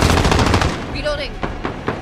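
Machine gun fire in a Modern Warfare Domination match: a dense, rapid burst of close, loud shots opens the moment, then gives way to scattered reports and in-game effects.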